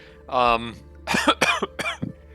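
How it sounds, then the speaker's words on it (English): A single short cough sounds up close, followed by a few brief spoken words. "Still a lingering cough from last week."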